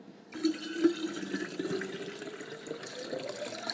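Kombucha tea brew pours steadily from a container, a continuous liquid trickle with a low gurgling tone running alone for a few seconds.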